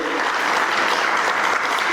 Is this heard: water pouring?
no